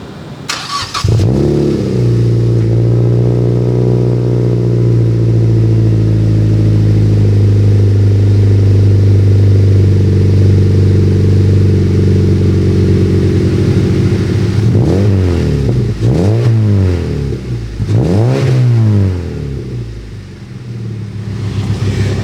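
A Mazda NC Miata with a single-exit muffler exhaust cranks and fires up, then settles into a loud, close, steady idle, with a few short throttle blips toward the end.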